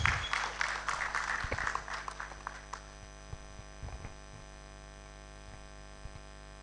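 An audience at a research awards and grants ceremony gives a brief round of applause that fades out within about three seconds, leaving a loud mains hum with occasional soft thumps.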